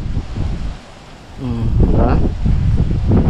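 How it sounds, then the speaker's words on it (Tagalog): Strong wind roars and buffets the microphone in heavy gusts at a tomato field, with a brief voice speaking partway through. "Ang bilis ng hangin."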